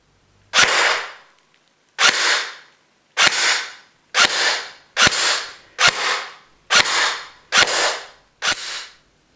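A G&G RK104 airsoft replica fires 0.20 g BBs during a chrono test, giving nine sharp, loud single shots at a steady pace of roughly one per second, each with a short decaying tail and near silence in between.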